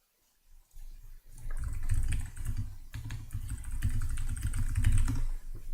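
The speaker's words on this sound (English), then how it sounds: "I wonder how my keyboard is loud" Computer keyboard typing, loud and close, with rapid clattering keystrokes in bursts over a low rumbling background hum.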